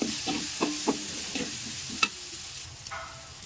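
Ginger garlic paste and onion fry in a pan, a soft steady sizzle under intermittent scraping stir strokes, close and fairly quiet.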